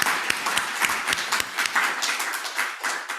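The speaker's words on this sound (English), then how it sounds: "A huge round of applause to everybody who presented in Theme 1." Audience at a food research conference breaks into sustained applause, a dense patter of many hands clapping steadily throughout, moderately loud and close, with no talk over it.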